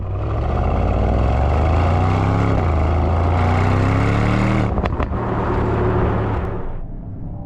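Mercedes-AMG GT 55 V8 coupe exhaust with active flaps, heard from outside the car: a loud, close engine note that climbs in pitch through revs, dips briefly, surges again, then fades near the end, with no talking.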